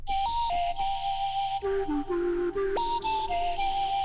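A pure, whistle-like synthesizer lead made from tuned noise plays a short melody of sustained notes, stepping between pitches over a steady low drone.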